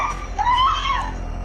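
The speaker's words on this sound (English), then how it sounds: "you can hear our victim screaming for help" A woman screams for help during a mugging, a high wavering cry rising and falling over about a second, loud against a steady background hum with no other voices.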